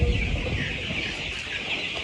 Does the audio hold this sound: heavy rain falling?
no